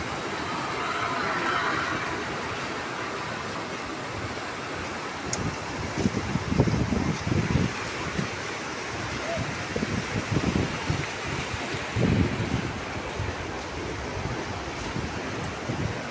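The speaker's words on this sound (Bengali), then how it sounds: "আসলে ক্যালেনে যখন পানির প্রয়োজন হয় তখন এভাবেই ছেড়ে দেয় মানুষ" Canal water released in northern Bangladesh rushing steadily through the channel, a broad continuous roar with choppier surges midway, heard alone without voices.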